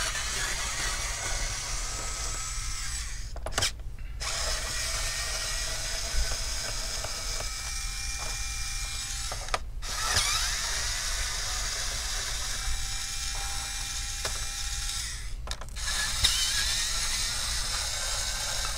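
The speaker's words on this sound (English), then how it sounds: "Mine is an electronic screwdriver." An electric screwdriver removes Phillips screws from the underside of an HP 17 laptop, whirring steadily for long stretches with a few brief pauses and clicks between screws, close and fairly loud.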